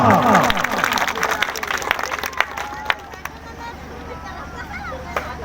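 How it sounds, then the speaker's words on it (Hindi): An outdoor audience claps at a speaker's urging, with scattered hand claps over crowd hubbub and a voice speaking loudly at the start. "जोर से ताली करखा"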